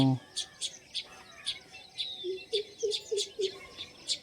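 Sparrows chirping in short, repeated bursts, a dozen or so high tweets in steady rhythm, fairly close, with faint lower calls and quiet background, feeding on scattered rice.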